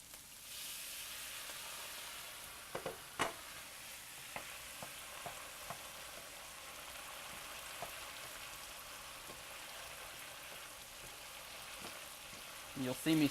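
Chicken risotto bubbles and sizzles softly in a pan while a spoon stirs it, adding light scraping and occasional knocks. The sound is faint and steady, with a clatter right at the end.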